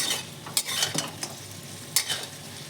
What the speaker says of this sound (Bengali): সুন্দর করে ভাজা হয়েছে আলুগুলো